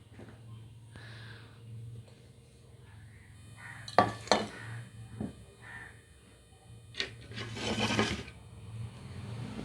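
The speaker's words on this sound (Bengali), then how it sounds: "এবার ঢাকাটা তুলে নিচ্ছি" A cover lifted off a bowl of milk cake, with a few soft scraping and knocking contacts and a brief rasp in a quiet room.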